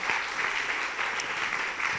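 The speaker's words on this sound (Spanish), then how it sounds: "Dale un fuerte aplauso al Señor." A church congregation claps in a sustained, even burst of applause that fills the room, dense and steady for the whole stretch with no pause.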